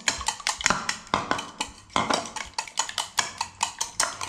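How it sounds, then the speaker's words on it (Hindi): A whisk beats cake batter with oil in a bowl, producing a quick, regular series of clattering scrapes and clicks, close and fairly loud, continuing steadily with no voice. "ऑयल डाल के अच्छी तरह से फेंट लीजिए आप इसको"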